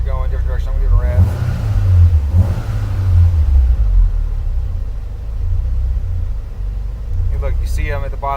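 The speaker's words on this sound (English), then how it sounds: "I'm gonna give it a rev." Engine of a 2004 Subaru STi with an EFR7670 turbo revved up from idle, a deep rumbling rise and fall that peaks mid-clip before settling, loud and close, with brief talk at the start and end.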